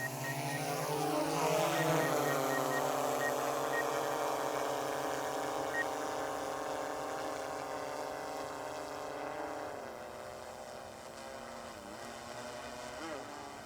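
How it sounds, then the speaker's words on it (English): A DJI Matrice 30T drone with an LP12 megaphone flies during a mapping and search-and-rescue test, its rotors giving a continuous high whine with drifting tonal pitch, fairly close and steady, someone talking over it at times. "now it's told me that the aircraft is gonna fly to the break point"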